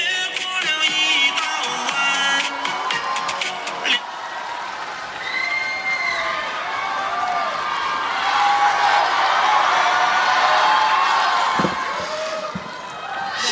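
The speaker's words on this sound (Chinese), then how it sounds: "感谢大家的热情掌声" Audience applause and cheering for a Chinese crosstalk comedy duo, a dense clapping crowd lasting the whole stretch and swelling midway, with announcer talk at the start.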